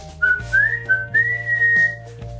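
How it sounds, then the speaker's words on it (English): A person whistles a short rising, wavering tune of several quick notes over a low background hum, close and fairly loud, during a kindergarten vocabulary review lesson. "Whistle. Whistle."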